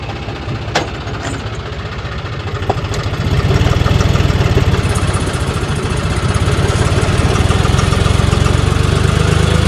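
A loaded tractor engine runs steadily through the night, a deep continuous rumble and chugging drone that grows slightly louder and fuller partway through, with no voices.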